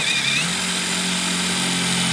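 Up close, a power drill runs steadily in reverse, unscrewing screws from a dried-out wood board during repair work, a continuous motor whine that drones for the whole stretch.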